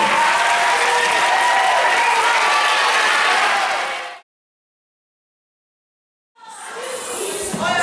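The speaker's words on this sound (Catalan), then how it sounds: "us vull demanar un fort aplaudiment per Gràcia Maravillo" Loud, full audience applause for Gràcia Maravillo at an amateur theatre showcase in Llinars del Vallès, with some cheering mixed in. It stops abruptly for about two seconds of silence, then resumes.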